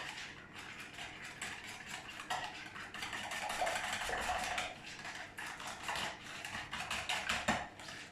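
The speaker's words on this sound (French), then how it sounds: "on va pouvoir mélanger la base de chocolat avec les œufs" Clicking, scraping mixing of a chocolate brownie base with eggs in a bowl, using a spatula, with steady close rattling and tapping strokes throughout and no talk.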